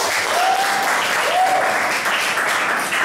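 Classroom applause during a mathematics lesson, a short burst of clapping from students heard close and fairly loud for about three seconds, with faint tonal chirps over it.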